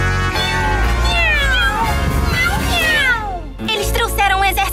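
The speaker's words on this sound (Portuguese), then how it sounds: "Eles trouxeram um exército inteiro de gatinhos." Several cartoon kittens meow in overlapping, high, rising and falling cries over a loud background of music and bustle in an animated show.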